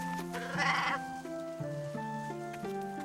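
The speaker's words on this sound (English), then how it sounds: "Once there was a shepherd with 100 sheep, but he lost one of them." Cartoon sheep bleating in an animated Bible story about a shepherd and his lost sheep, a loud wavering bleat over gentle background music with a second shorter bleat later.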